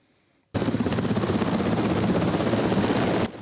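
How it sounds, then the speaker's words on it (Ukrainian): A Ukrainian Mi-8 military helicopter roars in suddenly and loudly near Bakhmut, its rotor chopping in a fast steady pulse before cutting off. "Український гелікоптер Мі 8 працює по околицях Бахмуту"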